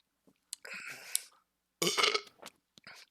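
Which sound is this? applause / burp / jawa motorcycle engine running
burp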